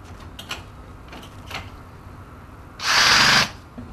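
Power drill driving a screw into an aquarium cabinet panel, not braced against anything firm: one short, loud whirring burst of about a second, preceded by faint clicks and handling noise.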